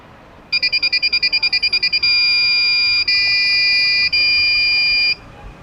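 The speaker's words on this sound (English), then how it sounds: "the buzzer will go off and starts making noise" An electronic buzzer alarm from an Arduino security system beeps rapidly about a dozen times, then turns into a loud continuous shrill tone with brief breaks, and cuts off.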